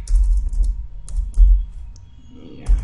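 Someone types code on a computer keyboard in quick uneven bursts, close and crisp clicking keystrokes with short pauses between runs, no talking.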